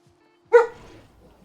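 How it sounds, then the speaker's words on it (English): A dog named Apollo gives a single sharp bark, close and loud, followed by a brief fading tail and near silence. "Apologies for the dog barking in the background here."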